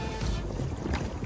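A pedal boat on the water at Stony Creek Metro Park, with a continuous close rumble of wind and churning water across the whole short stretch.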